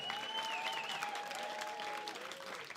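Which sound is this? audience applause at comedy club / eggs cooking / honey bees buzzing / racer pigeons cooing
audience applause at comedy club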